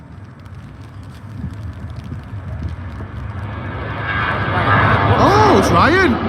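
Ryanair airliner taking off at Liverpool John Lennon Airport, its engine roar building steadily to a loud, sustained rush over wind noise, with people talking nearby.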